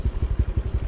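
Honda Click 125i scooter fitted with an EXOS X6 aftermarket exhaust, a close, deep pulsing engine note thrumming in quick regular beats for under a second.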